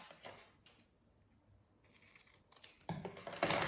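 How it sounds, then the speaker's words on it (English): Scissors trimming the brown edge off a banana leaf, giving a few quiet, crisp snips with soft rustling between cuts. "just trimming off the brown part"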